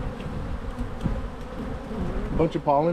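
Honey bees buzz steadily on a brood frame pulled from a winter hive holding crystallized cotton honey, a dense close drone running throughout, with a voice speaking briefly near the end.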